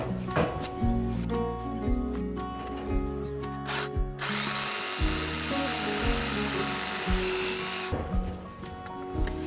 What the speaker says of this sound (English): these big bones are full of marrow, and so I'm gonna cut those in half with a Sawzall